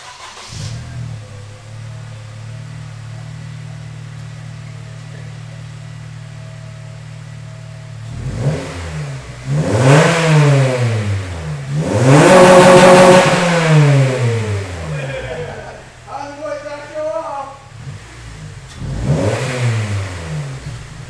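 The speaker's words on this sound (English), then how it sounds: "we'll do a promo of what his rice burner sounds like" An import car's engine idles steadily, then revs hard several times in rising and falling bursts, loud and close, the sharpest peak in the middle, with no talk over it.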